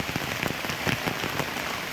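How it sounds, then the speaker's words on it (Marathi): Heavy monsoon rain pours down hard and close at a weekly market in Rajapur, a dense drumming roar on surfaces with quick splashing hits. "पाऊस पडायला लागला आहे मुसळधार पाऊस"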